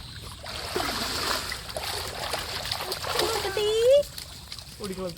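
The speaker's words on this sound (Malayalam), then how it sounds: "നീന്തി കളിക്കണത്" Water splashes and churns as a child swims and plays, with irregular nearby splatters throughout while voices talk and call out over it.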